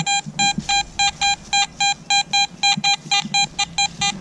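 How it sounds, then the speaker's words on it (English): A metal detector sounds a high-pitched tone in steady repeated beeps, about four per second, loud and close, while digging for a target. "It's ringing up like a high tone."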